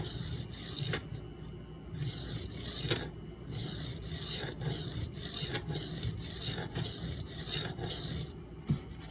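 A knife edge is drawn repeatedly across Baryonyx American Mutt and Bull Thistle sharpening stones, giving a rhythmic series of close, gritty rasping strokes separated by short pauses.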